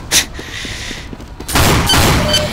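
Gunfire in Team Fortress 2 as a Scout blasts an enemy sniper: a sharp shot at the start, a stretch of lighter game noise, then a loud sustained burst of blasts and debris filling the last second.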